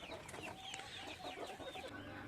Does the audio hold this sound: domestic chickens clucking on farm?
yes